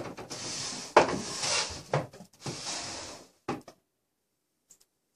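Wooden drawers opened and shut in a hurried search, a few sharp knocks and sliding rumbles close by over about four seconds, then quiet.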